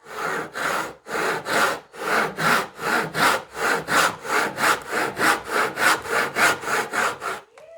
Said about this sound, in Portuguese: Você mantém então o serrote no prumo e dá então serradas mais longas.